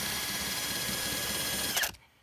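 Astro Pneumatic rubber eraser wheel spun by a drill at up to about 4,000 RPM, scrubbing a large logo sticker off a vehicle body: a steady close whirring grind that holds for about two seconds, then cuts off abruptly.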